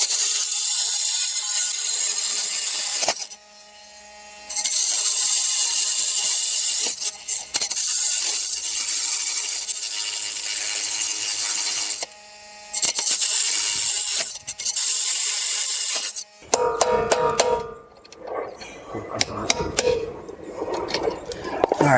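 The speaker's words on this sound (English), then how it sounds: "we're going to take our multi-tool and I'm going to cut that piece off there" Oscillating multi-tool cutting into a seized lug nut near the wheel studs, a steady buzzing grind with brief pauses, then harsher clattering scraping and clinks toward the end.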